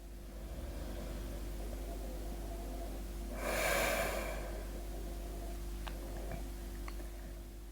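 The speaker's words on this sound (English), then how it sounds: "Long, conscious, deep breath in. Long, conscious, deep breath out." Slow, deep breathing during a restful yin yoga session: a single long, soft breath swells briefly in the middle against a steady low background hum, faint and close.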